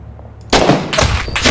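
Loud gunfire in the video game Six Days in Fallujah bursts in abruptly after a brief quiet moment, then continues as rapid, sustained volleys of shots.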